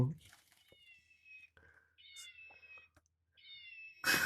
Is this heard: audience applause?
no